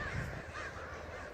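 Crows caw repeatedly outdoors in steady wind, the harsh calls fairly close and blending with the blustery air during a wet-grass kite outing.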